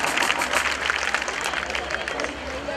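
A crowd at a Sai bhajan evening in Amroha claps together, a busy, steady patter of many hands, with a voice speaking over it.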